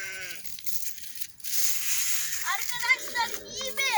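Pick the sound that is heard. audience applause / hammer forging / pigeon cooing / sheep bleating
sheep bleating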